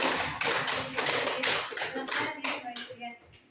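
Hands clap in a burst of applause at a teacher-training workshop in West Lombok, a steady rattle of many claps close by that fades out toward the end.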